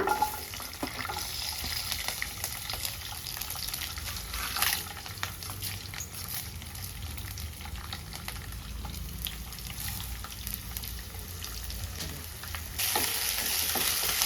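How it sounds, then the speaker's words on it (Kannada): Spices and chillies fry in hot oil for a double beans curry, giving a steady, close sizzle with occasional stirring clicks throughout, no voices. "ಸ್ವಲ್ಪ ಆಯಿಲ್ ಹಾಕೊಂಡು ಚೆನ್ನಾಗಿ ಅದನ್ನ ಫ್ರೈ ಮಾಡ್ಕೋಬೇಕು"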